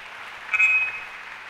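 A church congregation claps together after a sermon reading, a brief wash of applause that swells and fades within a second or so, moderately loud with no voices.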